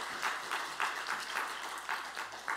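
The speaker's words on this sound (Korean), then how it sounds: "좀 더 우리가 기쁨과 감사한 마음을 담아가지고 박수를 한번 칩시다." A church congregation at a Sunday worship service claps together in a rhythmic, steady beat, dense and moderately loud in a reverberant room, with no voices over it.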